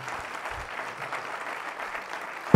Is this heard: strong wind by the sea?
no